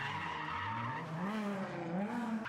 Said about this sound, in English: That's an Alfa Romeo 75 with a V6 and a freaking side pipe.